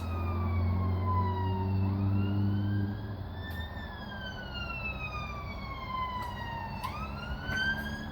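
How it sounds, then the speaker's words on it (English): A wailing siren rises and falls in long sweeps, passing at moderate distance over a low rumble of traffic. "We've got an ambulance."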